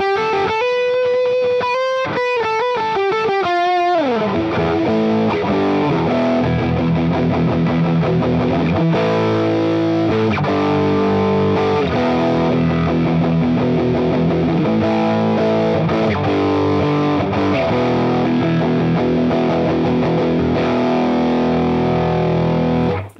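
Two heavily distorted electric guitars through the Guitar Rig 7 Player amp simulator, panned one left and one right, playing sustained chords after a short choppy riff, loud and thick throughout with no talking.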